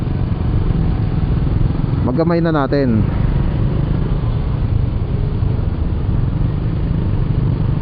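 A Suzuki Burgman Street EX scooter rides through city traffic with a steady, loud engine and road rumble throughout, as a rider speaks briefly over it partway through.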